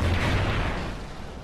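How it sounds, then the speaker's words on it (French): Grenade launcher explosions in Call of Duty Ghosts: a loud, booming blast with a heavy low rumble that slowly fades and thins out, no voices over it. "il m'a lancé 60 grenades"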